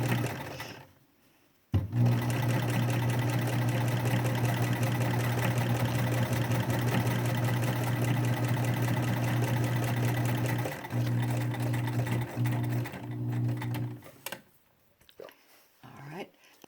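A sewing machine stitches a cloth face mask with a loud, steady mechanical whir that starts after a brief pause, runs continuously, then stutters in short bursts before stopping, with no talking.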